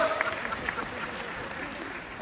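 Steady applause from a live audience at a horse training event, a continuous dense patter of clapping that stays even throughout with no pauses.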